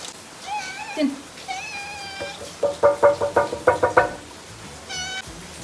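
A young cat born at home meows several times nearby, with drawn-out calls broken up by a quick burst of rhythmic pulsed sounds. A final meow follows.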